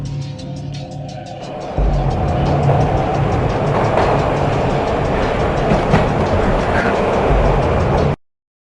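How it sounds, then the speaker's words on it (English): A train ride in Max Payne: a steady, loud rumble of a moving railcar with rhythmic clatter, starting softer and then surging into a continuous roar that cuts off abruptly. "This was my second train ride of the night."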